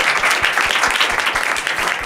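A studio audience bursts into loud applause for a guest on a Marathi talk show, dense fast clapping running continuously through the short moment, close and energetic.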